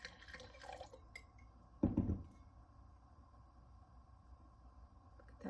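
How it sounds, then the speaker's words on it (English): Meiomi Pinot Noir is poured from a cork-top bottle into a glass, with a short burst of splashing liquid followed by faint drips in a quiet room. "I'm going to go ahead and give it a pour."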